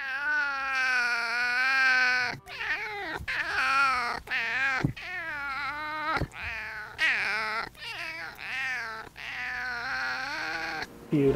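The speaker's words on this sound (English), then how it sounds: "His meow sounds like he's been smoking 2 packs a day for the past 40 years." A cat meows repeatedly in long, rough, raspy cries with a hoarse, strained tone, loud and close, with only brief pauses between calls.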